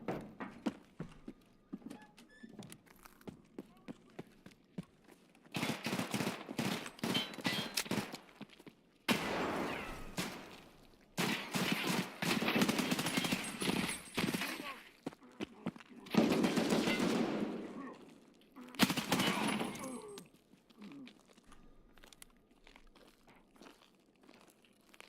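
Rapid bursts of automatic gunfire in Escape from Tarkov PvE, fired while the player spins, come in several loud clusters separated by short pauses, with sharp crackling shots and no talking.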